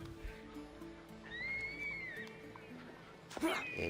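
A horse in Assassin's Creed Odyssey whinnies with a rising, wavering call mid-clip over steady game ambience and music, then a brief louder rustle and thump near the end.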